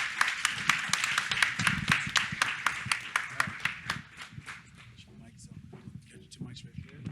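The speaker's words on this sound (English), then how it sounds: "Let's give them both a big round of applause." Audience applause at an investment forum, a fairly small crowd clapping with distinct individual claps that thin out and fade, murmuring voices underneath.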